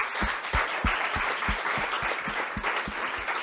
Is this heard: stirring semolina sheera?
no